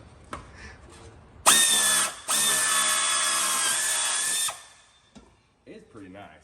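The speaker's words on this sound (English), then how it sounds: "Drill some holes in this thing." A small air drill bores a hole in a part of a Peterbilt 389 truck, whining loudly and steadily for about three seconds after a brief first burst, with quiet clatter before and after.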